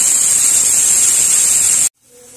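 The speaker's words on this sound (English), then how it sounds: "you can see the steam passing out from the stop clock watch" Steam hisses loudly and steadily from an autoclave at 15 psi, a broad continuous rush that cuts off abruptly near the end, leaving a faint low hum.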